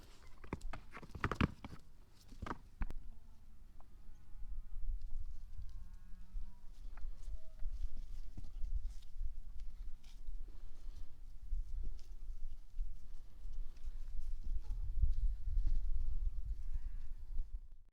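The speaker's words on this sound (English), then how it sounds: "Just wrestling to see who's top goat." Goats wrestling: hooves thud and scuffle on the ground with sharp knocks and a couple of bleats, set against steady outdoor background noise.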